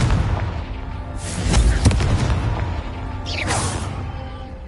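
Confringo explosion spell cast in Hogwarts Legacy, a whooshing fiery blast followed by a booming impact, then a second whooshing burst, over a steady low rumble with no talking.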